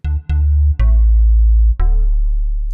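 Deep synth bass notes from the Loopmasters Bass Master instrument swell and sustain in a slow sequence, each trailed by a dark, washy reverb tail, alone without voices.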